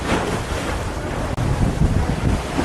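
Big ocean waves surge around a small fishing boat at sea, heavy roaring wash mixed with strong wind buffeting the microphone, loud and continuous.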